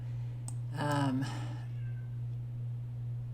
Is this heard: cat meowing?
yes